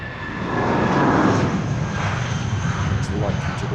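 A plane departing Heathrow Airport, heard outdoors as a loud, steady roar of engines that swells and then holds, with a person talking over it.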